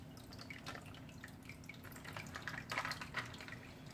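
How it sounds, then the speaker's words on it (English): Water poured into a softshell turtle tank, heard as faint, steady trickling and dripping with a low background hum and no talk. "I'm just gonna put this water in here."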